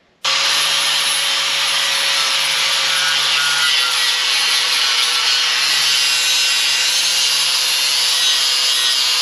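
A grinder smooths burrs and divots off the steel drawbar swing plate of a 1939 Caterpillar D4 crawler tractor, a loud, steady abrasive whine running continuously with no pauses.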